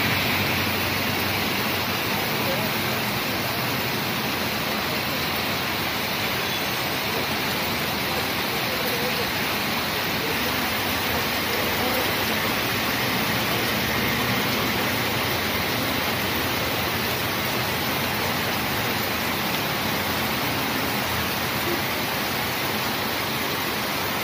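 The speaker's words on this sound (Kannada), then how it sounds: "ಸಂಜೆ ಸುಮಾರಿಗೆ ಮಳೆ ಜೋರಾಗಿದೆ" Heavy evening rain pours down in a continuous, dense hiss that stays steady and loud throughout, with no breaks or distinct drops standing out.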